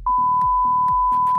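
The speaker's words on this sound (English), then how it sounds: "Once I do the beeping sound, say everything." A steady high-pitched censor bleep tone runs throughout, with muffled speech fragments faintly underneath.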